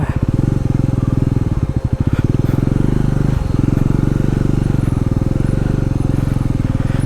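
A motorcycle engine throbs loud and close throughout, its rapid pulsing firing rhythm wavering briefly mid-ride, on a long road trip from Khotang to Jhapa.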